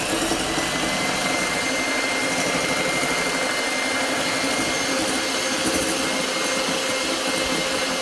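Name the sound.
electric hand mixer whipping eggs and sugar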